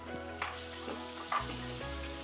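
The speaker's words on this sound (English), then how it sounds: "There is something so satisfying about that sizzle." Steady sizzling of onions frying in a pan, with occasional stirring scrapes and a low hum underneath.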